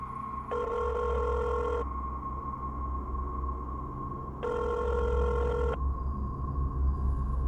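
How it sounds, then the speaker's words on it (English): A telephone ring tone plays twice in long, evenly spaced electronic bursts over a steady low hum, with silence between rings. "I grabbed my phone and dialed the police."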